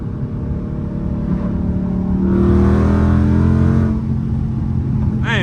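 A Dodge Scat Pack engine in street mode revs up loudly, its pitch climbing and swelling as it accelerates, then settling back to a steady drone.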